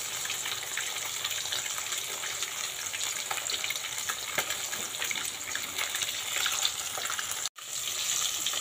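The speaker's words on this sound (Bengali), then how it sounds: "চলো মাছগুলো ভেজে নামিয়ে নিই" Catla fish sizzling in a hot oiled pan, a steady dense crackle and hiss close by with scattered pops, a brief dropout near the end, and no talking.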